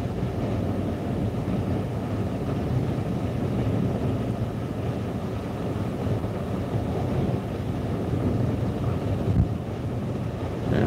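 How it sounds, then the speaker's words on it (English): Big waves roll in at Crystal Beach during a seiche, a steady, loud roar of surf heavily buffeted by wind on the microphone. "Try and get one of those big waves to come by while everybody's got his lights on the waterfront there."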